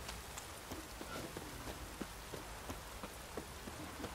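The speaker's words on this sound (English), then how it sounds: "Oh, it's drizzling." Light drizzle falling in the video game Witcher 3 makes a soft, steady patter of scattered drops, and faint rhythmic hoof-like clops sound beneath it.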